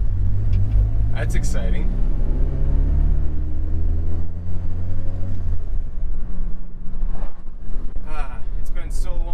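A turbocharged Honda Accord drives along with a steady, loud engine rumble and rising and falling tones as it accelerates, while someone talks over the noise inside the cabin.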